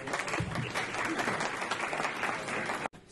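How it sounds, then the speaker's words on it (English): Audience applause at a stock market talk, dense steady clapping from a crowd filling the room at moderate loudness, cutting off abruptly near the end. "please give Ian a round of applause"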